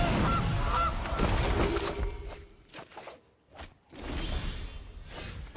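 A cartoonish goose honk from the Gilded Goose card in the MTG Arena Historic Brawl video game sounds loudly over a dense game backdrop, followed by a few softer sounds and a brief lull before the busy backdrop resumes.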